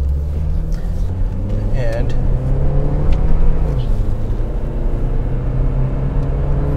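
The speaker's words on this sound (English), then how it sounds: "I love this engine, how it kind of revs out smoothly" Engine of a 2005 Honda Accord with 160 horsepower and a 5-speed automatic, revving smoothly while driving; a steady low drone rises and falls beneath continuous talking.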